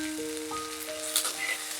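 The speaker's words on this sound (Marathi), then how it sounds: "आता यामध्ये मी लाल मिरच्या, हिरव्या मिरच्या आणि आलं घालत आहे" Red and green chillies with ginger sizzle in a hot pan, a brief, close hiss running beneath a few sustained musical tones.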